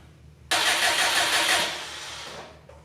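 A wide body Subaru STi engine cranks and fires up, a sudden loud catch settling into a strong idle that gradually eases down, heard up close with no talk.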